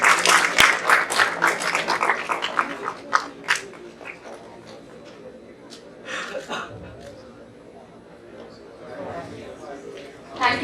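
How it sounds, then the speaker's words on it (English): Applause from an audience at an HR conclave business school event, strong at first then thinning into scattered clapping and murmured chatter before a few claps return. "Give a big round of applause for him"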